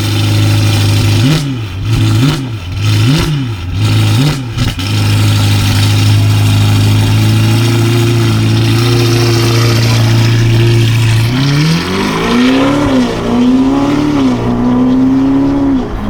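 A 704 hp Novitec-tuned Ferrari Roma Spider engine revs loudly and close while driving, with several sharp blips rising and falling early on, then a long sustained pull and more surging rev changes.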